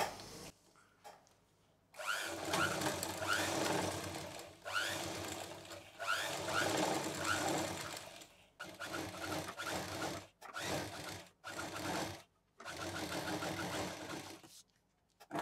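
Sewing machine stitching a reversed zip onto a transparent plastic sheet for a bangle box, running in several loud bursts with short pauses between them, no talk.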